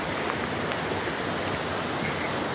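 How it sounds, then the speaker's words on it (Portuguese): Waterfall at Cunhambebe, a loud, constant broadband rush of falling water that stays even and close from start to finish with no speech. "A queda d'água aqui é muito boa."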